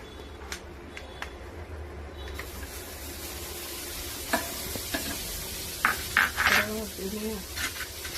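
Butter sizzles softly in a pan at the start of cooking bread chicken, a quiet, continuous frying hiss broken by stirring scrapes and small utensil clinks close by.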